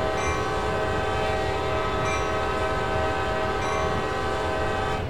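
Locomotive bell on a GP40-2 diesel in the Train Sim World game, ringing steadily as a constant metallic tone over continuous engine and rail rumble, loud and unbroken throughout, with no talking.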